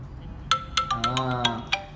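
A smart bracelet's alarm rings out as a bright electronic ringtone, a series of sharp repeated beeps and a short melodic run, clear and close with no speech.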